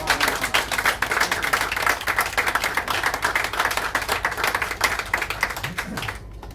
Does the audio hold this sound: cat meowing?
no